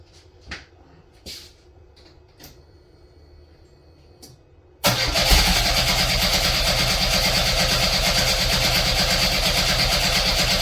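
A 1988 Pontiac Fiero engine being coaxed back to life with a battery charger attached, with a few faint clicks and knocks before the motor abruptly catches and runs loud and steady for the remaining six seconds.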